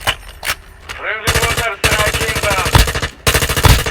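M4A1 rifle fire in the mobile shooter Warzone Mobile, loud rapid automatic bursts in several close strings separated by short pauses, with a brief voice mixed in.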